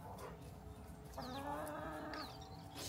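Backyard chickens clucking close by, several soft throaty clucks and a rising call over a steady low hum of background noise.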